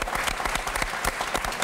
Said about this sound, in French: On peut applaudir Benoît quand même.